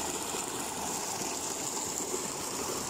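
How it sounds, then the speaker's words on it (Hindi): Water gushing steadily from a tubewell beside farm fields, a continuous close rushing wash with no talking. "और ये देखें, ये ट्यूबवेल है"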